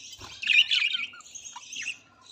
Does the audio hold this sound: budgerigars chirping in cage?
yes